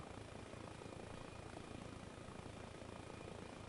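Helicopter flying in Arma Reforger, a continuous rotor and engine drone with a steady pulsing chop, heard alone at a low, even level.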